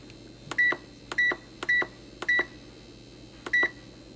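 Electric pressure cooker control panel beeping as its pressure adjust button is pressed, five short identical beeps, each preceded by a faint button click, spaced irregularly and heard close over a quiet room.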